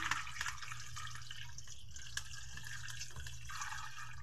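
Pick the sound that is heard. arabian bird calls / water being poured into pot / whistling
water being poured into pot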